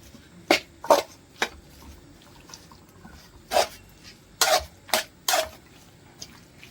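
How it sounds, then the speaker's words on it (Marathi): Eggplant bharit mixed with coriander in a dish, heard as a series of sharp, close utensil scrapes and clacks in irregular bursts, separated by quiet gaps. "असं हलवून घ्या"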